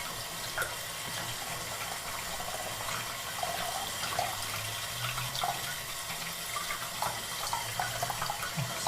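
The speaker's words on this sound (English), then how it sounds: "now we're gonna rinse this underwater" Gold chains are rinsed under a running tap after soap washing, a steady close splash and trickle of water with small shifting gurgles as the chains move through the stream.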